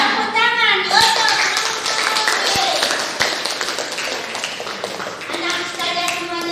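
Students in a lower secondary school classroom clap together in a loud, dense burst that carries on for several seconds, mixed with children's voices and chatter throughout.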